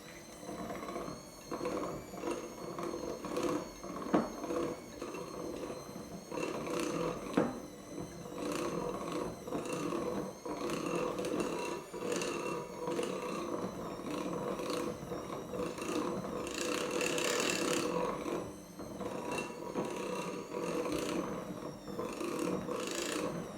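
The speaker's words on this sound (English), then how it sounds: "So it'll be a wee bit noisy for a minute while I do this." An electric hand mixer beats pancake batter in a catering kitchen, a continuous whirring drone with a rattling texture that holds steady for over twenty seconds at moderate volume, with no talking.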